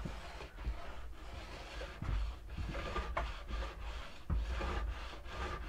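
A diamond stone is drawn along a ski's steel edge in close, quiet, rhythmic scraping strokes, with each back-and-forth pass clearly separated.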